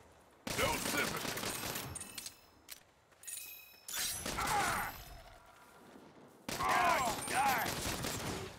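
Gunfire in Saints Row coming in three loud bursts of rapid shots separated by quieter gaps with scattered mechanical clicks and crashes, close and punchy, with a voice shouting during the firing.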